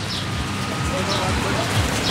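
Rain falling at a petrol stop in a Kashmiri mountain village on a motorcycle road trip, a dense steady hiss close by without letting up, with traffic or other background noise faintly mixed in.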